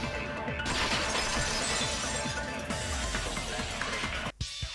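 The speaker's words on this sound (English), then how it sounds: "If it wasn't the window, then what broke to make that sound? It was the vase." A vase shatters in the video game Danganronpa 2 as a dense, sustained crash of breaking glassy fragments, loud and busy throughout before cutting off briefly near the end.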